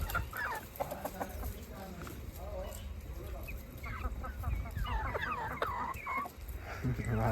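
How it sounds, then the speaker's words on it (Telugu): Farm chickens cluck busily while feeding, a steady scattered chatter of hens close by, with a person talking over the flock throughout. "తింటున్నాయి కోళ్ళు"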